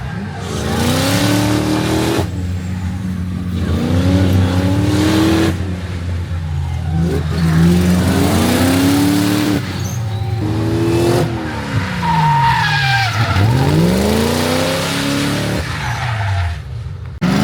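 A drift race car runs a practice session at the Viking Cup, its engine revving hard through rising and falling sweeps with loud tire squeal and skidding, close and continuous.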